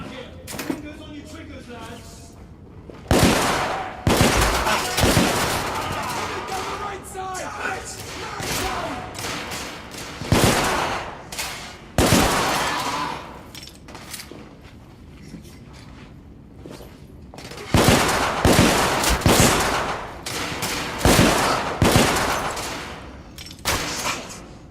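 Gunfire in the video game The Order 1886: loud, broadband bursts of shots and volleys come in clustered waves, with quieter stretches between and voices talking throughout.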